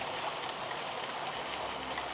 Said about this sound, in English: So we're just gonna pour a little bit of olive oil in there, just to break up some of the acid.